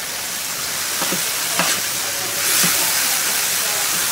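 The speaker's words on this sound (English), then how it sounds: "We'll stir it up a bit. Let all those juices marry together." Chorizo paella sizzles and hisses steadily in a pan on a Big Green Egg grill, with faint scrapes as it is stirred.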